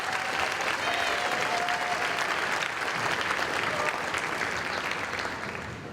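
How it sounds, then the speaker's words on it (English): A crowd of parents and guests at an all-sports reception gives a steady, loud round of applause, dense clapping that holds evenly and fades slightly toward the end. "Round of applause"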